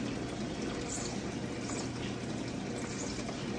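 Water steadily running and splashing into a fish tank holding newly arrived blue-eyed gold bushy fish, a continuous even rush close by with no speech.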